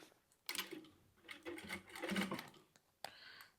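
A sewing machine stitches synthetic quilted fabric for a handbag in uneven bursts of quick mechanical chatter, soft and close, with a sharper clunk near the end.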